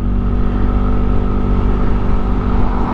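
A Yamaha Aerox V1 scooter fitted with an upgraded CVT revs hard and close, its engine a loud, steady buzzing drone that holds through the whole moment.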